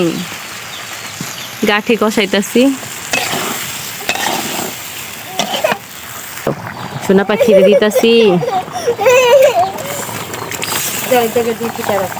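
Fish curry of gathi and hilsa being stirred and fried in a pan, with scraping and soft sizzling in irregular bursts while people talk nearby throughout.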